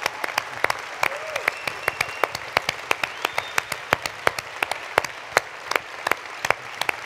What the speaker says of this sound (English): Let's give a huge round of applause for Paul Polman.